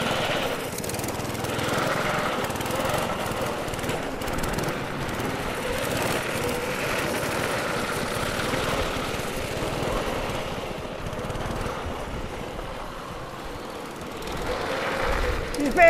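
A motor drones steadily and loudly throughout, rough and continuous like a lawn mower running close by, with voices faintly underneath.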